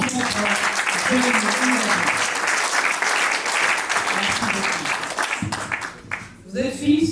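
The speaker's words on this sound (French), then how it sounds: "on va applaudir très fort" A crowd at a civil wedding applauds loudly and continuously, the clapping blending into a dense wash, while a voice speaks over it; the applause fades near the end.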